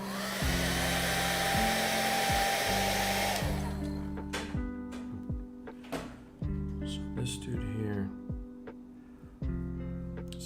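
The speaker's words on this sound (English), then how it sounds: "that oil's still wet, so I'll hit this with a hair dryer" A hair dryer blowing onto wet oil paint during a chipping and weathering paint job, giving a steady whirring drone with a humming motor tone that cuts out and restarts several times.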